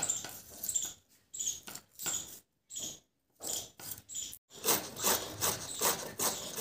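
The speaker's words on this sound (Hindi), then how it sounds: "और इधर प्रारंभ हो गई है चुकंदर की घिसाई, कद्दूकस" Red beetroot being grated on a kitchen grater in a village home, a close scraping rasp in short repeated strokes separated by brief pauses, growing quicker and more continuous toward the end, with no talk.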